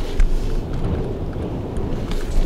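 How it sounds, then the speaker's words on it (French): Strong storm wind on a beach, a continuous heavy low roar of gusts buffeting the microphone, loud and steady with no talk. "Il y a un vent de pas possible."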